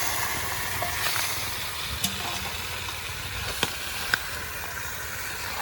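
Chicken goes into spice masala that has been sautéed in a pan over a village cooking fire, and a steady broadband sizzle of frying follows, with a few sharp clicks and no voices.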